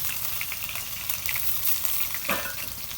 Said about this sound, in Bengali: সয়াবিনের তেলের মধ্যে আমি মশলা দিয়ে দেব রসুন বাটা